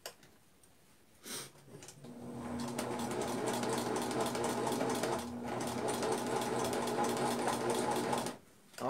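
A sewing machine stitches a shirt collar in a sewing class, starting with a short burst, then running in a steady, close rattling hum with a brief pause midway before stopping.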